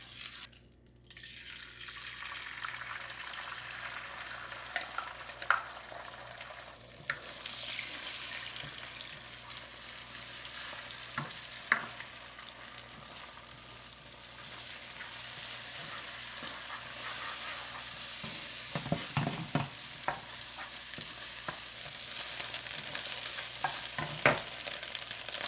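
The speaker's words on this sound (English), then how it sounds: "fry this up and add a little oil into it" Shrimp frying in a little oil in a wok for a cellophane noodle dish, a continuous sizzle that rises after a quiet start, with occasional spatula clinks and scrapes throughout.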